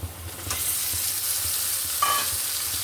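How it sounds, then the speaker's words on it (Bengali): Onion frying in a pan with pieces of katla fish added: a constant close hiss of hot oil, with a couple of brief scrapes and a clink as the ingredients are stirred. "পেঁয়াজটা আমি ভালো করে ভেজে নিচ্ছি পেঁয়াজটার মতো করে মাছটা আমি ঢেলে দিচ্ছি"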